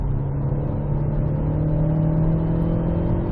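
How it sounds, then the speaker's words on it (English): Nissan Juke Hybrid engine heard from inside the cabin under hard acceleration, a steady, fairly loud low drone with a rising whir that holds constant throughout, no voices. "On the subject of cabin noise, the engine, you can hear it, but it's not in any way annoying."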